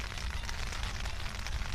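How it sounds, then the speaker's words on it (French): Steady rain falling outdoors, a continuous broadband hiss with a dense patter underneath, even and unbroken throughout with no voices. "Alors bien évidemment il pleut."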